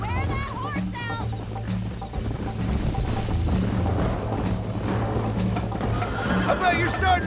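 Galloping hooves and horse whinnies from Red Dead Redemption on Nintendo Switch blend with game music and voices talking over the action, steady and continuous throughout.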